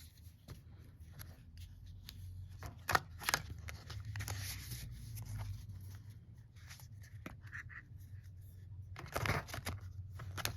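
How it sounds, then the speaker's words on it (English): A deck of cards is shuffled by hand in quiet, irregular bursts of riffling and rubbing over about ten seconds, close by with no talking. "Okay, so I'm going to start by shuffling."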